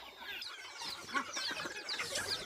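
A chicken clucks in short agitated bursts while people try to catch it, fairly faint, with scuffling movement and no clear talk.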